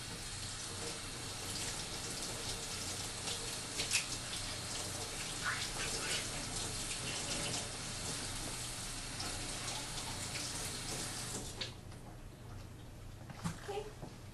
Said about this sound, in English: I'm going to first rinse our vegetables and also the top of the pinto bean lid to get most of the dirt off of our food before we start